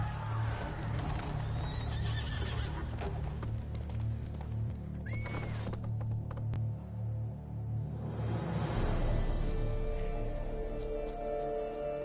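Geralt's horse Roach in The Witcher 3 gallops with continuous clip-clop hoofbeats and a whinny over a droning game soundtrack, loud and close throughout.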